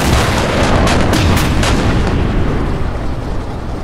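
Loud, dense gunfire aimed at a helicopter in the video game Unturned, rapid overlapping booming shots close up that fade slightly toward the end.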